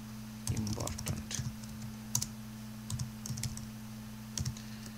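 Short bursts of typing on a computer keyboard, clustered key clicks with pauses between them, faint and close against a steady electrical hum.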